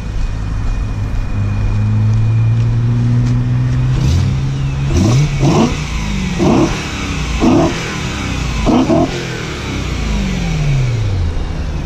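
Front intake of a BMW M3 E92 roaring as the engine is revved, a steady idle followed by a run of five or six sharp close blips, loud and alone with no talk.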